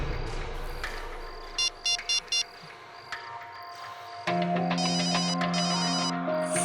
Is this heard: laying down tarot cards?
no